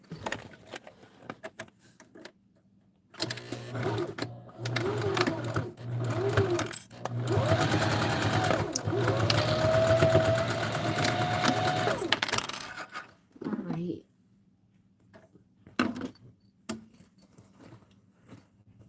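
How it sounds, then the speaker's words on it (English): A sewing machine stitches a large bag in a long, steady mechanical run of whirring and rapid needle clatter, set between quieter stretches of handling clicks and rustles. "we're going to go ahead and sew it"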